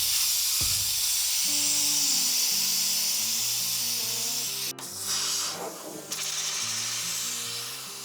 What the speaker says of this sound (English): Undoing this is gonna help us to deflate those airbags.